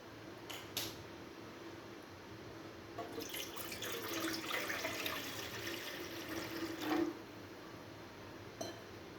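Water is poured into an idli steamer pot set on a gas stove, a soft running splash building in the middle and trailing off, with faint clinks of the vessel.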